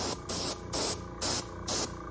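Four short bursts of airbrush spray hiss, painting a fishing lure, evenly spaced with brief pauses between, close and steady.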